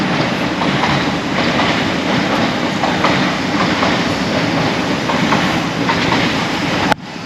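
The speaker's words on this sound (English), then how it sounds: "Train." A train rolls steadily past close by in Newcastle, a loud continuous rumble with rhythmic clickety-clack of wheels on rail joints, cutting off abruptly near the end.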